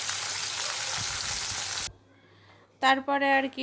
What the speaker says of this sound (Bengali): তারপরে আমি বাড়িতে পরিষ্কার করে নিলাম এবং মাছগুলো ভাজা করলাম